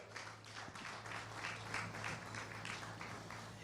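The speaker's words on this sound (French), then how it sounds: "que je vous prie d'applaudir, s'il vous plaît" Applause from an audience at a business award ceremony, soft and steady rippling clapping heard from a distance over a low electrical hum.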